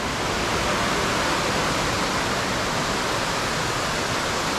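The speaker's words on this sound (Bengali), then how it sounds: "এখান থেকে নদীটা একটু দেখা যাচ্ছে, প্রচণ্ড স্রোত রয়েছে জলের, ভীষণ জোরে জলটা আসছে, ভীষণ সাউন্ড জলের।" A fast, swollen river near a homestay by Mawlynnong roars in a loud, unbroken wash of rushing water, dense and steady throughout with no other sounds.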